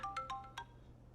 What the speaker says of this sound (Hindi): फलक की सास कॉल कर रही है